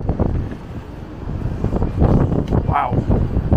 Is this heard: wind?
yes